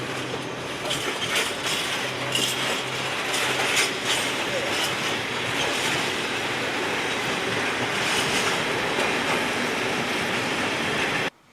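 A train hauling a radioactive cargo passes at night on the line from Pragersko via Zidani Most toward Koper, making a loud, steady rumble with clattering wheels that lasts throughout and then cuts off abruptly.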